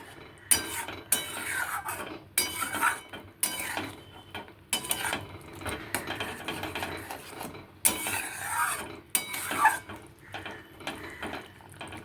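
A ladle stirs rice paste into rohu fish curry, making bursts of metallic scraping and clattering against the pot, separated by short quiet gaps, with no talking.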